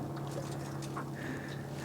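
A small fishing boat running on a modern four-stroke lean-burn outboard engine, a steady low hum with water and wind noise around it, continuous and fairly faint.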